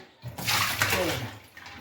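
Tap water runs over a wam (eel) fish being washed, a brief close rush of running water that swells and fades within a couple of seconds, with no talk.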